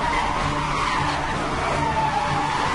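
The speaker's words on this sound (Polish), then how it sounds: "Pokaz driftu." Tires squeal steadily as a car drifts in Need for Speed Hot Pursuit, a continuous high screech over a constant engine roar with no talk.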